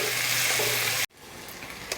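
Thickly sliced medium tomatoes fry in a hot pan with a dense, steady sizzle for about a second, then the sizzle cuts off abruptly and only a quieter, fainter hiss remains.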